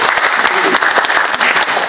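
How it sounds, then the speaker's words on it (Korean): A brief burst of audience applause at a rural village community policy forum in Gongju, steady dense clapping from a seated crowd lasting under two seconds. "다시 한번 큰 박수 부탁드리겠습니다."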